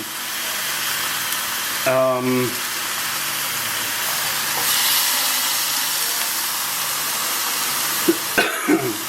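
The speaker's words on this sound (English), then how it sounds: "Sorry, the chili pepper makes me cough." A few short coughs, set off by chili pepper, break through near the end over a steady, loud sizzling hiss of cooking curry.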